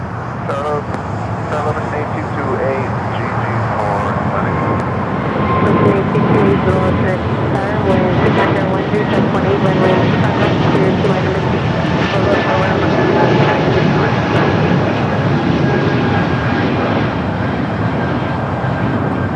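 An airliner takes off from runway 25 right at LAX, a steady broad engine roar holding loud through the whole stretch, mixed with background traffic and voices talking over it.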